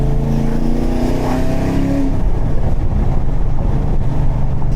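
Chevrolet Camaro Z28 engine with a leaking exhaust, a loud steady rumbling drone heard from inside while driving, with a brief rising rev early on, and no one talking.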